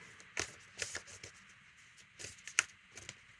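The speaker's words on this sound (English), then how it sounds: "I'm just shuffling the deck again to see if I can get another card for this reading." A deck of tarot cards being shuffled, soft riffling and tapping bursts spaced irregularly, quiet and close with no voices.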